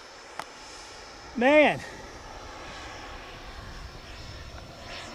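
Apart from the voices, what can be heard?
AeroFoam T-45 EDF RC jet engine in flight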